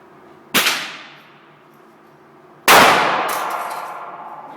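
A 9mm handgun fires two sharp, loud shots about two seconds apart outdoors, each followed by a ringing decay.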